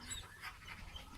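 A dog pants steadily and close by, quick breathy rasps running continuously with no voices.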